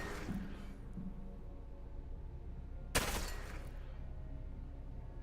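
A single sharp gunshot in the video game MiSide, loud and sudden against a low steady background hum, followed by a fading tail.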